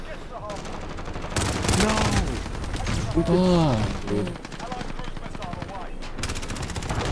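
Rapid automatic gunfire from a Call of Duty: Modern Warfare match on Shipment, loud and continuous in dense bursts, with players shouting and talking over the shooting.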